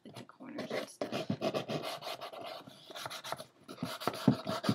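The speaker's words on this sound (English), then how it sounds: "just going to take just a regular fingernail file, and I'm just sanding down the edges a little bit" Paper edges are sanded with an ordinary fingernail file, giving quick, close scratchy rasping strokes in short repeated bursts with brief pauses between them.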